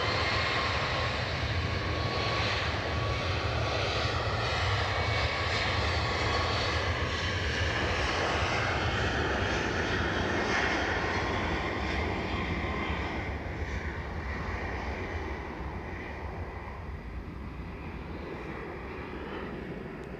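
A Brussels Airlines airliner departs Edinburgh Airport with a loud, sustained jet roar that stays strong throughout and eases slightly toward the end as the aircraft pulls away.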